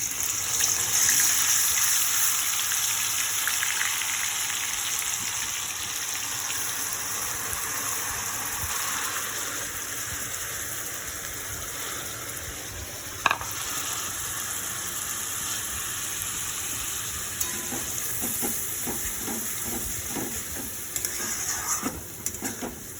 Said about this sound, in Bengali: তেল তো গরম হয়ে গেছে, এর মধ্যে পেঁয়াজ বাটাটা দিয়ে দেব।